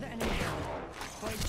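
Rapid gunfire in the Apex Legends battle royale, dense overlapping shots and bursts close by, filling the whole moment with a constant rattling barrage.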